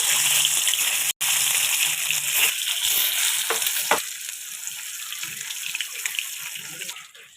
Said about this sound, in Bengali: তেলটা গরম হয়ে গেছে এবার ডিমগুলো ছেড়ে দেবো